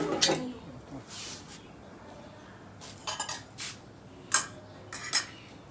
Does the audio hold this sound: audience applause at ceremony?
no